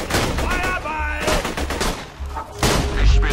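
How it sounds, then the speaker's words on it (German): Borderlands 2 gunfire on Xbox 360, loud bursts of rapid shots in clusters with brief lulls, ending in a heavy impact and a spike of firing. "das war ein böser Kopfschuss"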